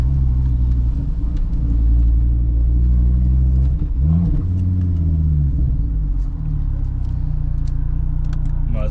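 An ex-police Volvo T5 rolls through a village, its engine a loud, steady low rumble close by that swells and eases a little midway, with no talk over it.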